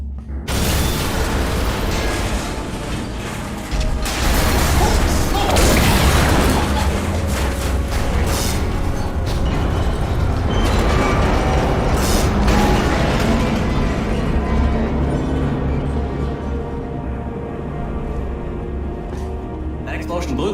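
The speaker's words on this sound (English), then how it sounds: "That explosion blew the whole toxic goo pump station apart." A toxic goo pump station explodes in the video game Portal: Stories Mel, with booming bursts, rattling mechanical debris and creaking metal that rumble on loudly at close range.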